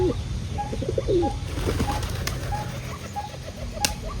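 Pigeons coo softly and repeatedly over a steady low hum, with a few brief wing flaps nearby.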